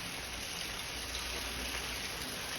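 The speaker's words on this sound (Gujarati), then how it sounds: "ઘડીક વારમાં જોવો તો વરસાદ હોત ચાલુ થઈ ગયો" Rain falls steadily with no break, a soft, even hiss of drops spread across the surroundings, faint and continuous with no voices.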